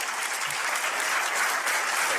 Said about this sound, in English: What a lukewarm, tepid pseudo clap.